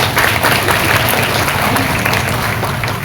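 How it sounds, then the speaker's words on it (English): Audience at a women's convention applauds the sponsors, a dense, loud wash of many hands clapping together, continuous and close, with no voices over it for about three seconds. "Please give our sponsors a round of applause."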